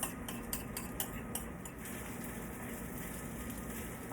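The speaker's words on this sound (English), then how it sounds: "I'm just going to stir that in" Spoon stirring mushrooms and onions in a pan, a quiet run of rhythmic clinks and scrapes of utensil on metal, busiest at the start and then settling into soft stirring.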